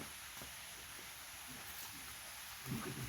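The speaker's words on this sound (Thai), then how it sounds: "ช่วงนี้ฝนลง" Rain falls steadily in northeastern Thailand, a soft, even hiss that stays faint from start to finish, with a few slightly louder spatters near the end.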